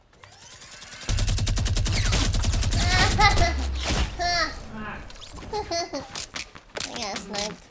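A minigun in a video game fires a long, rapid burst of shots for a couple of seconds, loud and close, then stops as a young voice talks excitedly over the rest.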